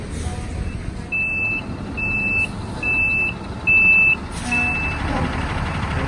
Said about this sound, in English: Here's the fish truck ready to come down.